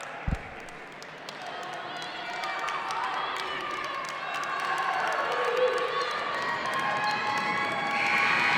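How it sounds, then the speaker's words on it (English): A basketball crowd at a girls' high school game cheers and shouts as the team takes the court, the roar swelling gradually and growing louder toward the end. "Indians have hit the court. Crowd getting loud."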